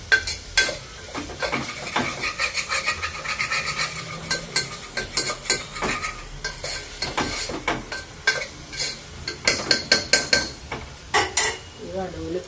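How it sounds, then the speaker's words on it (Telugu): Onions and green chillies frying in a pan under a soft sizzle, with frequent sharp scrapes and clinks from a small ladle stirring against the pan in an uneven rhythm. "ఉల్లిపాయలు పచ్చిమిరకాయలు వేగుతున్నాయి"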